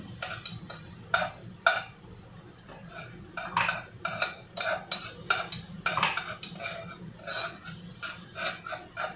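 Sliced onions sautéing in a pan, a low continuous sizzle broken by sharp scraping and stirring strokes of a utensil against the pan, close and fairly quiet.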